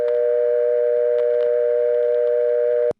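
Steady, loud synthesized dial tone made from high harmonics of 120 Hz, mimicking an old-fashioned telephone line, runs unbroken for about three seconds with faint crackles beneath, then cuts off abruptly.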